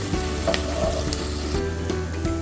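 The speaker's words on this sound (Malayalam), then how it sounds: "ചില്ലി സോസ് ഇത് ഒഴിച്ച് കൊടുക്കുന്നുണ്ട്." Chili sauce going into a pan of sizzling chicken pasta, with steady close frying sizzle and a few clinks and scrapes over a low hum, no talking.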